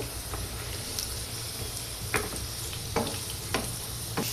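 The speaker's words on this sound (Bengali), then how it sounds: "আলুটা কিন্তু প্রায় ভাজা হয়ে এসেছে।" Potatoes frying in hot oil, a steady close sizzle punctuated by several sharp spattering pops and occasional stirring scrapes, moderately loud with no voices.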